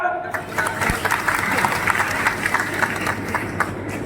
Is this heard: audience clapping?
yes